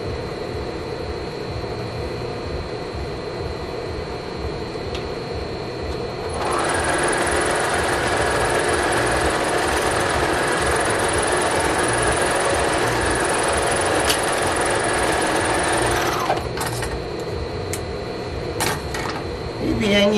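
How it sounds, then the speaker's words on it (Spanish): An electric sewing machine runs steadily for about ten seconds, stitching along both seams of a summer dress, then stops, with someone talking before and after the run. "pues le pasan la máquina mero en ambas costuras"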